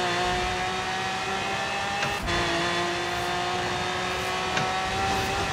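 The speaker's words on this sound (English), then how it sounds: "This Lamborghini definitely goes a hella fast" A Lamborghini engine in Forza Horizon 3 holds a steady, loud drone as it accelerates, with a brief shift around midway and another later, alone without talk.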